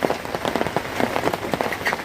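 Steady rain patters continuously on a nearby surface, a dense close drumming of drops with no voices.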